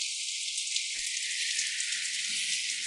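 Heavy rain pours down in a constant, loud hiss that never lets up, with faint low thumps and murmurs underneath.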